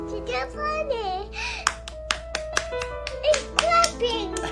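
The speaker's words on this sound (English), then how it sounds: "It's clapping!" Hands clap in a few sharp, separate bursts while a child and an adult talk and sing-song excitedly over and between them.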